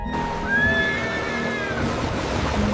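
Restless horses neigh on a Mongol warship under sail, one long whinny rising loud and near over a steady wash of water and oars.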